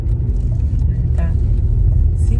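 A car being driven to school on the first day of classes in Spain, its engine a steady low rumble running throughout, close and continuous under background noise.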